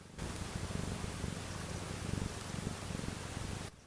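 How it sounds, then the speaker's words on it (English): A cat purrs steadily up close, a low rumbling pulse that continues without pause for several seconds. "Hold on, you want to hear Clementine purring?"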